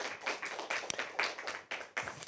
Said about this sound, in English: if you don't mind joining me in giving Roger a round of applause